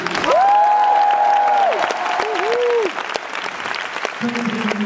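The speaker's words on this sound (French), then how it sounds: "que vous devez applaudir en hurlant" Loud audience applause at a rock-style reading, with a long sustained cry or tone ringing over the clapping near the start and a lower tone entering near the end as the clapping continues.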